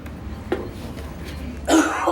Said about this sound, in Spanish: Vamos a toser fuertemente y la flema que despeguemos desde los pulmones